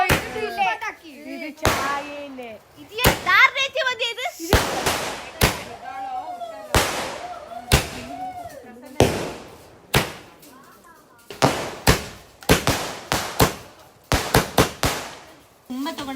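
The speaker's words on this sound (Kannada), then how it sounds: "ಇದು ಪಟಾಕಿ ಇದು" Firecrackers burst one after another at a traditional Kodagu festival in Coorg, a rapid, irregular series of loud sharp bangs, with children's voices chattering between the blasts.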